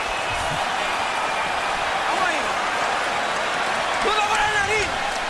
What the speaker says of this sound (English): Crowd is on fire